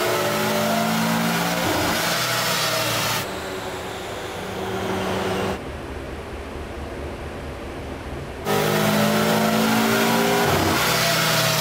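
A Subaru Forester engine on a dyno is held against its rev limiter, a loud, continuous high-rpm roar that dips briefly in intensity midway before surging back to full strength.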